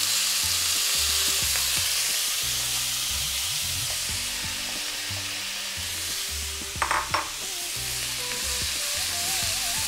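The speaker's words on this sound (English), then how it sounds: "I mean, look at the sizzle." Urad dal and cooked cabbage fry in a hot pan, a loud, steady close sizzle with scraping stirs and occasional clinks of a utensil against the pan.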